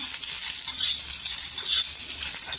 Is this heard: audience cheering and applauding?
no